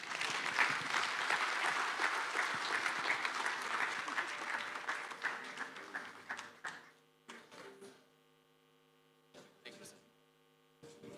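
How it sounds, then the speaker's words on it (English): A conference audience at an insurance sales event claps steadily for several seconds. The applause then thins to scattered claps and fades, leaving a low mains hum beneath it. "Another round of applause, ladies and gentlemen."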